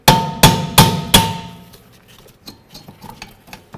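Four sharp metallic knocks in quick succession while a bolt near the rear caliper of a 2006-12 Ford Fusion is broken free, loud and close, then faint scattered ticks and rattles.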